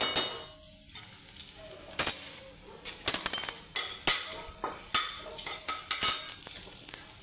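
Ginger garlic paste sizzles in a hot oil tempering with star anise, bay leaf and cloves for dhaba-style whole masoor, a steady frying hiss broken by repeated scraping stirs and clinks of a spoon against the pan.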